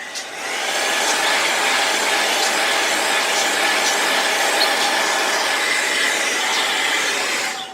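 A hair dryer blows steadily on a paper junk journal page, a loud, even whoosh that runs unbroken from start to finish with no talking.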